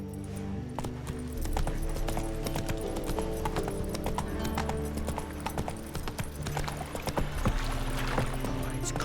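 Roach the horse in The Witcher 3 gallops with continuous, dense hoofbeats over a steady game ambience and low hum, a faint whinny rising near the end.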